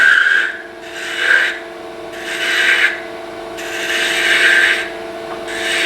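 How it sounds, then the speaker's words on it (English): A spindle gouge cutting wood on a lathe while turning a Christmas wood ornament, heard as repeated rasping scrapes, roughly five swelling passes, over a steady faint machine hum. "trying to get all this removed with a spindle gouge can take quite a bit of time."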